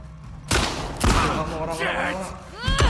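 Gunfire in The Last of Us Part 2 on PS4 comes as three sharp, loud shots spaced about a second apart, with game sounds ringing between them.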